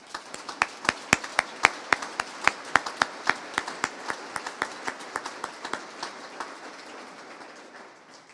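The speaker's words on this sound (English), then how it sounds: "we might here take a round of applause for Joe and the entire design team" Applause from an audience at a discovery centre opening ceremony, a crisp run of sharp, distinct claps that peaks early, then thins and fades toward the end, with no talk over it.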